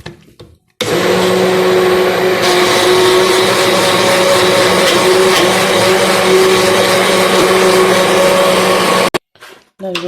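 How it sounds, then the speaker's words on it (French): An electric blender mixes baghrir batter with a loud, steady high whir that switches on abruptly, runs for about eight seconds and stops sharply, with nobody talking over it. "Et là, je vais mixer"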